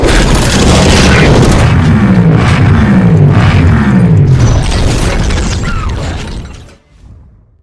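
A Yamaha MT-15 motorcycle is eased over onto its crash guard, a loud continuous mix of rumbling engine, scraping and clattering metal that builds for several seconds before falling off to near silence.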